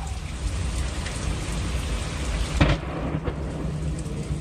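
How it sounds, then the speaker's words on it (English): Thunder rumbles through steady rain during a spring storm over Oklahoma, Arkansas and Missouri, a loud crack breaking out midway over the constant wash of falling rain. "Lightning and the thunder."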